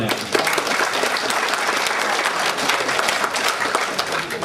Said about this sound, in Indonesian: Alangkah baiknya kita sesamanya memberikan aplaus kepada kita semuanya.